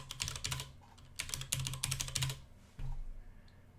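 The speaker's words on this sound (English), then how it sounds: "So I'm just going to type in password." A password is typed on a computer keyboard, a quick close run of keystrokes with a low background hum, then a short pause and a final keypress.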